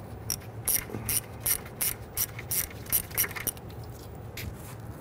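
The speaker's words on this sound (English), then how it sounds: "Go down right here and want to loosen and remove that bolt holding this." A ratchet with a 10 mm socket and short extension loosens a bolt holding the rear ABS wheel speed sensor on a 2008-2017 Buick Enclave, a close series of quick clicking ratchet strokes in bursts, no talking.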